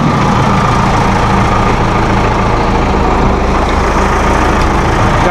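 A 2012 Massey Ferguson 2680HD utility tractor with a 97 HP engine idles steadily, a loud, close, continuous low diesel rumble with no talk over it.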